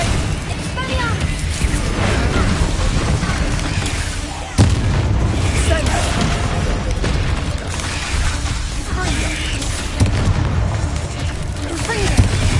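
Confringo blasting spells in a Harry Potter video game, repeated explosive booms and crackling bursts in a dense battle din, with one sharp, loud blast standing out and voices casting over the noise.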